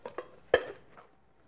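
A hot pan flipped onto a plate to turn out a sweet potato pavé gives a few light clinks, then one sharper ceramic-and-metal clatter, close and brief in a quiet kitchen.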